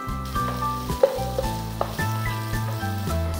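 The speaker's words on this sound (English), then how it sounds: "Saute the onions till the onions are translucent." Thinly sliced onions sauté in a pan with a close, steady sizzle, with a few sharp clinks and scrapes as they are stirred over a low humming tone.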